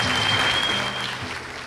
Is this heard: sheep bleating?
no